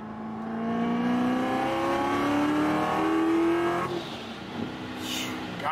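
A supercharged Corvette Stingray C7 with cams accelerates hard, its engine pitch climbing steadily through a gear as a loud, close roar before a shift and a settling drone.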